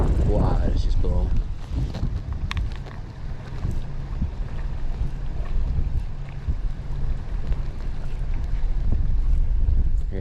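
Strong wind gusts buffet across a river on the Mississippi during a fishing outing, roaring steadily and loudly for the whole stretch, with a brief bit of talk at the start.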